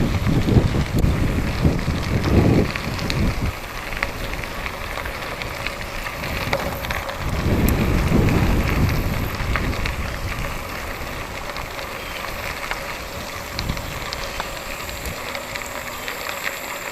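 Wind roars over the microphone on an outdoor bike ride along the Katy Trail, with strong, rumbling gusts that come and go over a steady rushing background, and no voices.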